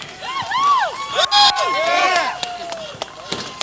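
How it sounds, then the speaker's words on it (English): At a Sportsman Modifieds short-track race, a winning driver's crew whoops and shouts in celebration nearby, with overlapping high cheers, whistles and sharp bursts over a busy crowd. "You can hear some of his crew celebrating on the trolley."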